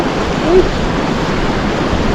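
Waterfalls in the Cilo mountains valley near Hakkari give a steady, loud rushing roar of falling water, constant throughout and blended with wind noise.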